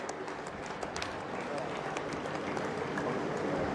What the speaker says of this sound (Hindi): एक बार दोनों हाथ उठाकर तालियां बजा दीजिए